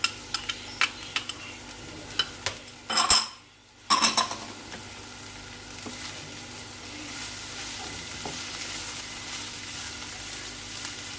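Cabbage and onion fry in a pan for spring rolls, a steady soft sizzle with clinks and a short burst of louder hiss and scraping near the start, then an even hiss to the end.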